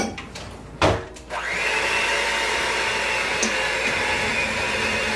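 An electric mixer runs on slow speed, blending powdered sugar for a gluten-free Mississippi mud; a couple of knocks precede a steady, even whir that continues to the end.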